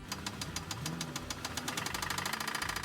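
A car engine idles with a steady, rapid metallic knocking ticking over and over, loud and close, with no one speaking.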